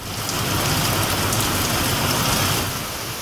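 Steady rain pours down in Jagtial, a dense, even hiss of drops on surfaces that holds constant and fairly loud throughout with no voices.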